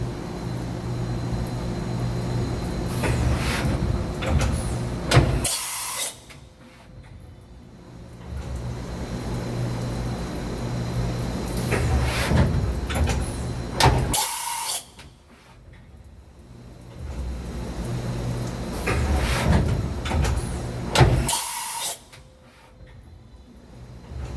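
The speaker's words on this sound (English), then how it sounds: "HCN 4003 tool change video with the machine ending in serial number 51." A 2013 Mazak HCN 4000 horizontal CNC machining center runs a repeated tool change cycle, a loud mechanical whir and hum broken by sharp clunks and brief quiet gaps, the pattern recurring three times in a steady rhythm.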